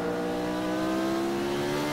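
Race car engine in the sim game Automobilista at the 1975 German Grand Prix on the Nordschleife, a steady close harmonic drone held at high revs throughout, alone with no talk.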